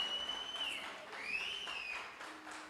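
A church congregation applauds in a steady wash of clapping with occasional cheers, moderately loud, and a few voices ring out above it.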